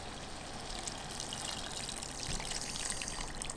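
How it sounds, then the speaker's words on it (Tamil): Tamarind water is poured into a cooking pot with drumstick pods, a soft, continuous trickling splash heard quietly and close up with no talking. "இது புளி வந்து கரைச்சி வச்சுருக்கேன், அதை சேர்த்துக்கலாம்."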